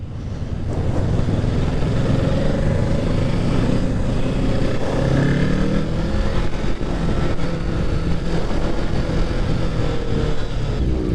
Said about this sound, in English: The bike is a little jerky, I'm not gonna lie, on and off the throttle.